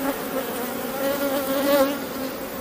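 Honeybees droning steadily at an open hive as the colony prepares to swarm, a dense, continuous close buzz with a wavering pitch and no voices.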